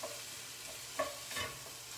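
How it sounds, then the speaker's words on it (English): Onions are stirred in a frying pan for a breakfast hash, with a spoon scraping through the softly sizzling contents in a couple of brief strokes, close and fairly quiet with no talk. "So I'm just gonna go ahead and stir all this together."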